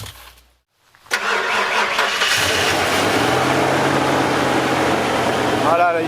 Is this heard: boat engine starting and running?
yes